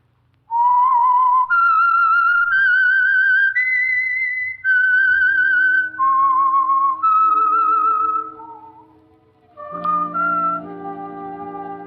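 A person whistles a slow, wavering melody up close, the theme of old-time radio mystery The Whistler, the notes gliding up and down, then soft low accompaniment joins in.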